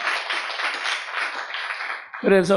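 A congregation applauds steadily for about two seconds during a church pastors' seminar sermon, a broad clapping wash that fades before a voice starts speaking at the end.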